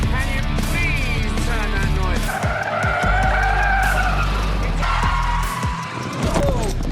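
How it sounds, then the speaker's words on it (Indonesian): Film soundtrack: a Jaguar car speeds away with loud, repeated tire skids and squeals over a roaring engine, with voices and background noise mixed in. "Mereka semua masuk ke mobil lalu pergi ke tempat Lizzie dengan kecepatan tinggi."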